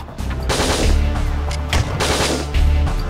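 Shotgun blasts boom in Operation Winback during a pinned-down firefight, several loud, heavy reports in quick succession with booming low-end thumps, up close and without talk.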